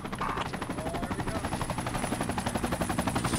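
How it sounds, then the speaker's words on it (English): A helicopter arrives in the military video game Project Reality, its rotor thumping in a fast, steady, even rhythm that stays loud and close for the whole stretch, with no voices over it. "here comes another chopper"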